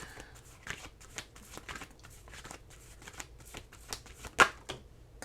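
Oracle cards shuffle by hand in a series of quick riffling bursts with short pauses between, close and fairly quiet, with one sharper snap near the end.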